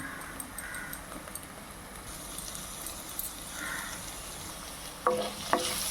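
Butter garlic mushrooms with chilli flakes and oregano get stirred in a pan, giving a soft, quiet sizzle with faint scraping and a couple of sharper utensil knocks near the end.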